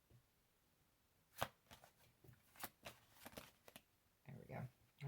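Tarot cards being shuffled by hand, a quiet sequence of short riffling bursts and soft slaps, close but faint, with a brief longer riffle near the end.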